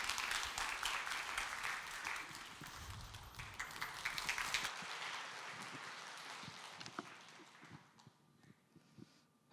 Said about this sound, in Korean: 우리 목사님께 감사드리는 박수지만 또 하나님께 영광 돌리는 박수로